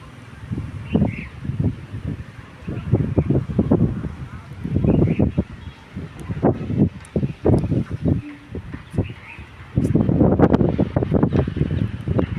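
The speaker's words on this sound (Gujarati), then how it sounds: "કેવો મસ્ત પવન આવે છે" Gusting wind buffets the microphone in uneven rumbling bursts, with faint voices underneath.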